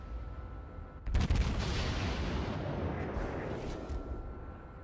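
The main guns of the cruiser Atago fire in World of Warships as one sudden heavy salvo, a booming blast followed by a long rumbling roar that slowly fades.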